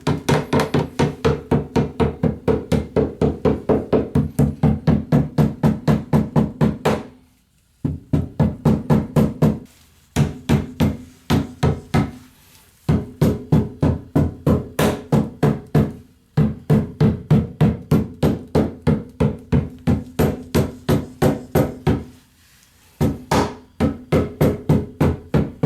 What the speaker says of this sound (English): Now they said to peen the lead bend against the brass to help seal it.